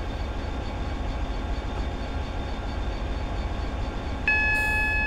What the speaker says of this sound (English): Now I believe we shall get another warning here for the red signal.